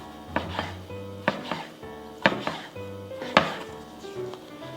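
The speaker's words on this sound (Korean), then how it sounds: "한입 크기로 드시기 편하게 썰어서 쓰시면 됩니다" A knife cuts pork shoulder into bite-sized pieces on a board, with several sharp chopping knocks at an uneven, steady pace, close up and clear with no talk.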